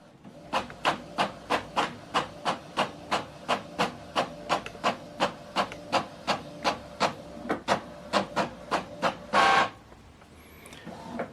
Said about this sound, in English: We're printing this double-sided.